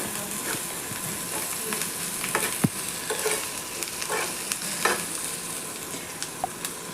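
Masala spices with reddened onion, turmeric and ginger-garlic paste being stirred and fried in a pan for a meal maker curry, a steady soft sizzle with scraping stirs and occasional spoon clinks, close and alone.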